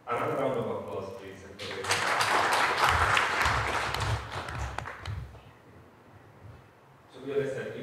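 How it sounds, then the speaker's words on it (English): Applause at the launch of an international arbitration centre in Tanzania rises and fills the room for several seconds amid talk and shuffling, then fades as a voice resumes. "Another round of applause, please."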